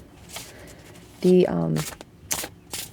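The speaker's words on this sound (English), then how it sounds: "we can give these guys a shuffle and see" Thick, oversized tarot cards being shuffled by hand, giving a short burst of riffling and flapping card stock, with a person talking before and after the shuffle.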